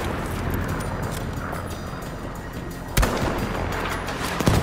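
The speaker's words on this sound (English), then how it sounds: "remember with this sniper, as soon as you shoot" A sniper rifle fires in the video game Battlefield 5, one sharp loud crack standing out over a dense, steady roar of battlefield noise, with a smaller thump near the end.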